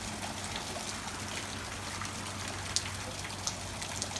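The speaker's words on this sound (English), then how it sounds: "Looks like the rain's mostly over." Rain dripping and trickling outdoors near a house and garden after a summer shower, a steady soft wet hiss with a few sharper isolated drips standing out near the end.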